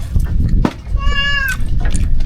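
A cat meows once, loud and close, a drawn-out wavering cry, at a former home by Laguna Lake where dogs keep it from coming down, with people talking around it.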